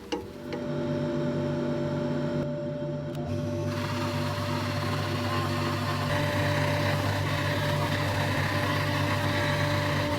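A lathe-turned epoxy resin and pine cone piece is buffed and polished, with a steady machine hum and motor whine joined by a constant brighter friction hiss that rises after a few seconds and continues without talking.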